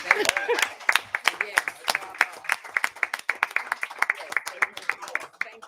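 A crowd at a township board meeting claps steadily and briskly for several seconds, with a voice calling out over the applause at the start.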